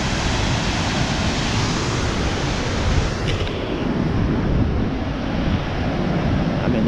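A waterfall at Little River Canyon in Alabama roars with a dense, loud, unbroken rush of falling water, steady throughout with a slight wind buffeting.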